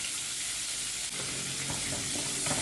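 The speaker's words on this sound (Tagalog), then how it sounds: "Saute until aroma come out." Onions and garlic sizzle steadily in a mix of butter and olive oil, a close, continuous frying hiss with faint stirring scrapes and no talking.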